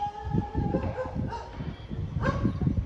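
Several dogs bark repeatedly in the distance, with short overlapping yaps over a steady outdoor background.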